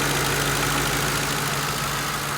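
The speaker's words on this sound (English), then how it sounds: "Engine sounds normal and typical." A car engine idles steadily at a government auction, likely a police Crown Victoria or Caprice, with a constant low hum and droning tone that holds evenly throughout, fairly loud and alone with no talk.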